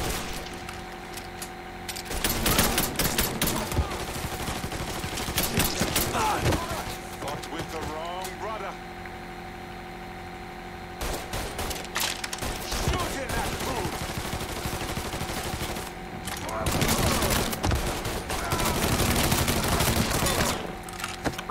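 Bursts of gunfire in the Mafia III video game, rapid rattling volleys in several clusters separated by quieter stretches, loud and close with scattered voices in between.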